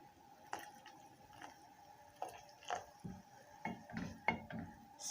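Faint clinks of a utensil against a pot and light liquid splashes as milk goes into tomato soup, a handful of soft, separate taps spread over a quiet background.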